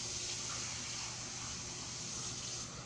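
Liquid poured into a rice pot holding beef chuck and onions for a pot roast, a steady rushing, splashing pour that runs continuously and fairly quietly, with no talking.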